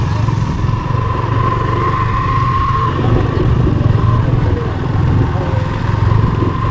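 Motorcycle engines hum steadily nearby at a tea garden viewpoint, a continuous droning rumble with slight swells, while voices talk faintly in the background.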